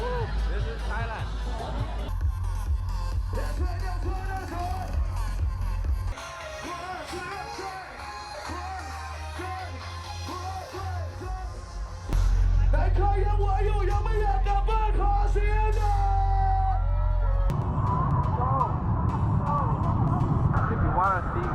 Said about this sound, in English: If you want to see what crowds look like, this is what crowds look like.